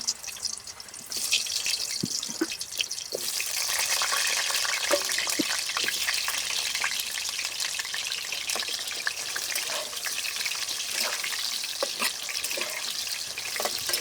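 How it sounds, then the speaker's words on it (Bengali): Potatoes frying in hot mustard oil in a wok, a dense, continuous crackling sizzle heard close and steady throughout, with scattered sharper pops. "কড়াইতে সরিষার তেল দিয়ে আলুগুলোকে এখন ভেজে নেব"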